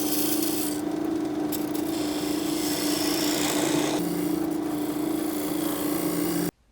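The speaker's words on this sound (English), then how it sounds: "I switch to a spindle gouge with a fingernail grind to cut the tenon on the base" A spindle gouge with a fingernail grind cuts a tenon on the base of a small wood bowl spinning on a lathe, giving a steady scraping, rasping hiss over the machine's constant hum, with brief shifts in tone as the cut changes.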